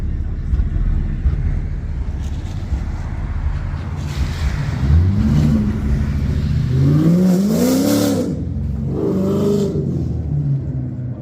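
A Ford Mustang engine idles with a deep rumble inside a garage, then revs hard twice in quick bursts that rise and fall in pitch, loud and close. The exhaust note is throaty.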